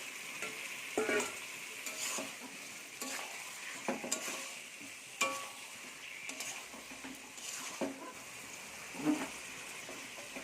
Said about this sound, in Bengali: এবারে আমি চিকেনটা দিয়ে দেবো এর মধ্যে